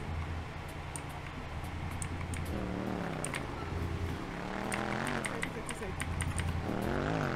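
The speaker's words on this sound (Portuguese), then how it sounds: "Ó, tem uma moto vindo, Mika, tem uma moto vindo." A motorcycle engine in a GTA roleplay game approaches, a rising and falling motor drone heard under steady talk from players over a low background rumble.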